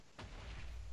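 A Minecraft ghast fires a fireball, giving one sharp, fairly faint blast-like burst early on that trails into a dull rumbling tail, with no speech.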